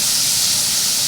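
Tomato frying in oil makes a steady, close hiss and sizzle that carries on evenly through the brief moment, with no voices.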